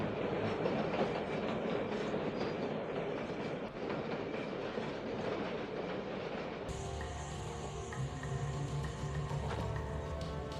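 A train in the Panama jungle rolls along the rails with a steady rumble and faint clacking, the tone shifting partway through as the ride gets noisier.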